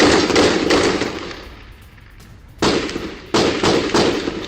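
Bursts of gunfire from Baloch fighters shooting in the middle of a road in front of a Pakistani military post, loud rapid volleys with a lull of about a second before firing resumes in two sharp onsets.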